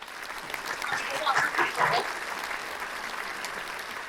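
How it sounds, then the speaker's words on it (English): A round of applause for a poetry reader at an LGBTQ+ open mic at a university, moderate clapping that swells in the middle and fades, with a voice speaking over it. "Chloe, another round of applause."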